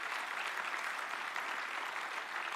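An audience at a graduation ceremony applauds teachers with steady, dense clapping that holds at an even level throughout, with no voices over it.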